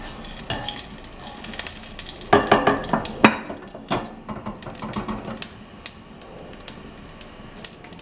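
Mustard seeds crackle, pop and spit sharply in hot oil, irregular and close, with a few louder clustered bursts and occasional utensil clinks.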